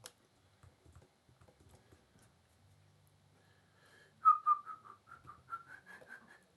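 A person attempts to whistle, producing a series of short, breathy, wavering whistled notes after quiet shuffling sounds, fairly close and unsteady in pitch.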